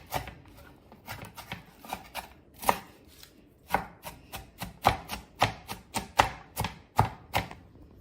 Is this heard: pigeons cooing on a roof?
no